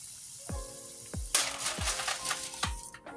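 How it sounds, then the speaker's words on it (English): Green plantain slices frying in hot oil: a steady hiss and crackle close by, with a burst of brighter spattering near the middle and several sharp metallic clinks at intervals, no talking. "So now you fry up your plantain, give them a first fry. Make sure all sides fry."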